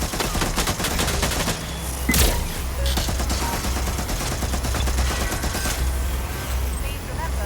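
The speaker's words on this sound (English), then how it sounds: "They're shooting at us!" Gunfire in the video game Watch Dogs Legion, dense and continuous bursts of shots with one heavier blast partway through, loud and close throughout.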